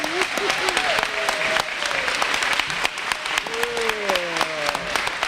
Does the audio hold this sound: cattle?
no